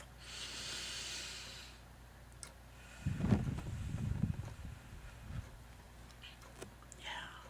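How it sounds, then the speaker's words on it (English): Slow, quiet breathing heard close, with a soft airy exhale at first and then a longer, deeper, rougher breath, set against near silence. "Breath."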